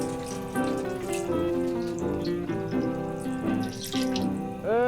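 Canned bone broth pours into a pot for seafood gumbo, a continuous liquid gurgle and splash that shifts in pitch as the stream flows, ending with a brief rising note.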